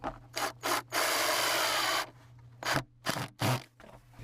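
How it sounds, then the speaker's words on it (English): A nut driver turns nuts snug on a plastic bucket composter, giving short raspy ratcheting bursts and one longer grinding twist, close and fairly quiet. "Also use a nut driver here."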